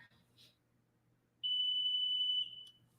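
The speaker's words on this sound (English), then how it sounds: "Princess, come turn this alarm off" A smoke alarm sounds a single sustained electronic beep of about one second, loud and shrill, in a quiet room with faint background hum.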